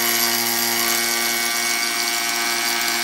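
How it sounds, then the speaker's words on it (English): A vacuum bag sealer runs steadily in a laser copier bag sealing demo, giving a continuous loud motor hum with a dense hiss throughout and no talk. "Place it inside the sealer, turn it on."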